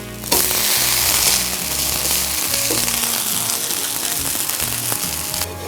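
A curry leaves dosa sizzles in hot oil on the pan just after being flipped, a loud, steady crackling hiss that fills several seconds without pause.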